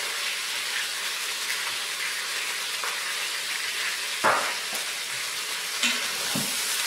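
Garlic frying in oil inside a pressure cooker pot while making carnitas, a constant bright sizzle with occasional scraping stirs and short clatters, close and fairly loud with no talking.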